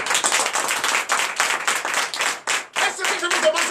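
A Sunday worship congregation in Benin claps in a loud, rhythmic burst with acclaiming voices mixed in, the beat pausing briefly near the end.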